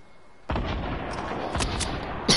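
In the video game Fortnite, a grenade launcher fires with a sudden loud boom that hangs in a sustained rumbling blast, followed by further sharp reports near the end.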